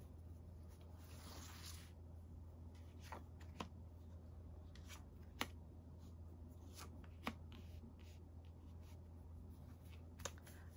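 Tarot cards shuffled by hand in a quiet room, a soft steady riffling with scattered sharp clicks and taps of cards against each other, faint over a low hum.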